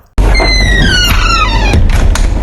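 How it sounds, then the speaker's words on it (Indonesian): A wooden cupboard door swings shut with a loud, drawn-out squeaking creak over a low rumbling thud, close and alone. "Suara pintu lemari yang tertutup."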